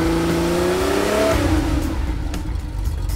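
A Porsche 930 engine revs up to a rising howl then drops back as the throttle lifts, close and loud with no talking.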